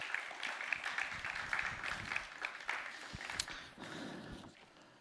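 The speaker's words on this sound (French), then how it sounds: "On peut l'applaudir, s'il vous plaît." An audience claps for a prize presenter at the regional final of the Ma thèse en 180 secondes contest. Dense, steady applause fills the hall, then thins and fades toward the end.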